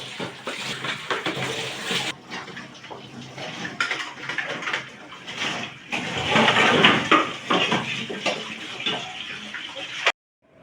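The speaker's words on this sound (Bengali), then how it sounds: "গামলাটা ধুয়ে নিই।" Water splashing and pouring while a basin is scrubbed and rinsed by hand, with uneven swishes and clatters, loud and close, in bursts that stop abruptly at the end.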